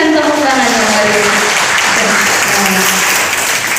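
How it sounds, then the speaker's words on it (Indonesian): Loud, dense applause from an audience at a school mathematics competition event in Kupang, steady throughout with faint voices mixed in beneath the clapping. "Mari kita berikan tepuk tangan yang meriah."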